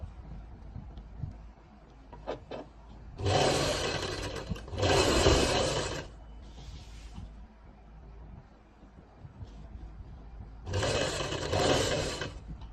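Domestic sewing machine stitching fabric along a neck facing, in three separate loud whirring bursts of a couple of seconds each, separated by quiet pauses with faint handling clicks.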